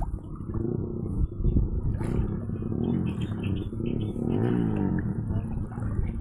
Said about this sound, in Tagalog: Maingay po yung mga motor doon